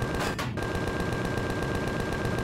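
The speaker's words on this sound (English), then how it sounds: "gotta reload the gats now" Rapid machine-gun fire from mounted guns in Empyrion Galactic Survival, a fast even stream of loud shots that runs without a break through the whole stretch, close and dominant.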